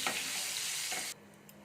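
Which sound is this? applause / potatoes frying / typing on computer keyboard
potatoes frying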